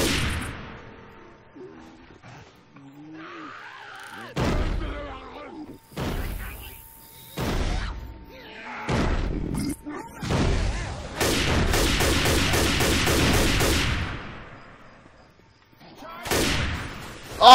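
Sniper rifle shots from Left 4 Dead 2 ring out as sharp, loud cracks in irregular bursts, with a dense volley near the middle, mixed with in-game effects and a voice talking between the shots.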